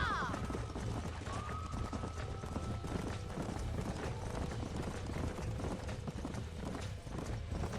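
Horse hooves clip-clop in the Red Dead Redemption video game, a quick repeated trotting beat under continuous game ambience, with a brief whinny and a voice heard near the start.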